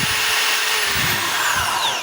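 A DeWalt DWD024 hammer drill runs in plain drill mode, giving a steady high-pitched motor whine for about two seconds, close and loud without any hammering, and nobody speaks over it.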